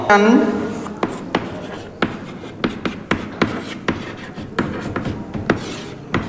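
Handwriting by a teacher during a lesson on carbohydrates, a steady series of short scratchy pen or chalk strokes in quick irregular rhythm, close and clear, following a brief spoken word at the start.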